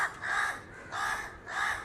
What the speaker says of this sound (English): alarmed cawing of the flock of crows added to the